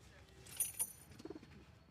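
Pigeons newly brought home, cooing softly nearby in short bursts, with faint background noise and some chirps, fairly quiet overall.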